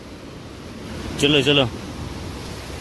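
A rain-swollen mountain stream in Kinnaur, flooded after heavy monsoon downpours, gives a constant broad rushing roar, with a man briefly calling out over it.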